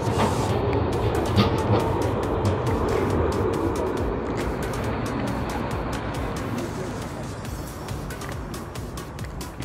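A tram pulling away from a stop, a steady rumbling roll with rhythmic clicking and rattling that fades slightly over several seconds, with background murmur but no clear talk.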